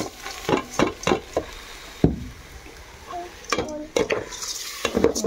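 Rice being fried dry in a pan, scraped and stirred with a spoon, repeated clinks and scrapes against the metal, close and fairly loud, with a faint sizzle beneath.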